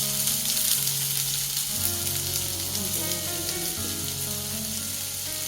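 Onion and green chili fry in a pan with a steady, bright sizzle, with a low hum from a nearby appliance or stove under it and a few soft stirring sounds.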